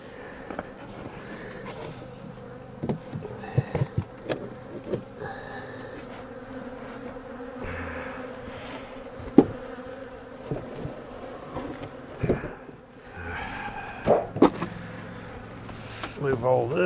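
A tiny honeybee swarm hums with a steady low buzz throughout, overlaid by intermittent handling knocks and clatter as gear is moved about nearby.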